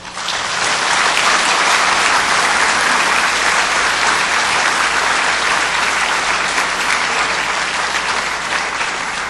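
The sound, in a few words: audience applause opening a commemorative event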